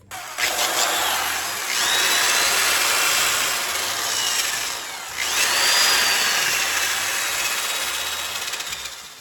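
A power tool whirs and grinds steadily while cleaning a small-block Chevy cylinder head around the valve seats, loud and close, in two long passes with a short easing between them and no talking.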